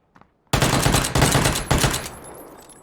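Micro Uzi fire in the PUBG battle royale game comes in three rapid, loud, close bursts about half a second apart, each a dense rattle of shots, followed by a fading echo.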